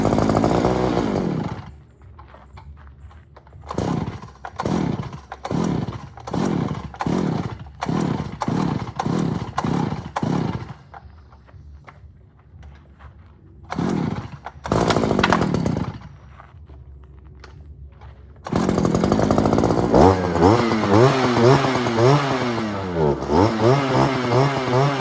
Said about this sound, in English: So this is a StrikeMaster ice auger I bought. It'll start up, but it won't stay running